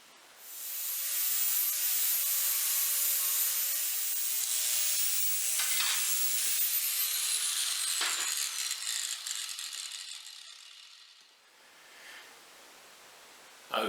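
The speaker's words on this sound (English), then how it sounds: "put a bevel around this edge so I've got somewhere to put the filler metal" An angle grinder beveling the edge of an old steel pipe, a loud, steady high-pitched grinding hiss lasting about ten seconds with slight pitch shifts as pressure changes, then winding down, close and without talking.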